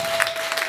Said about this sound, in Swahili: Kuna mtu mmoja angelipigia makofi Bwana katika jina la Bwana Yesu.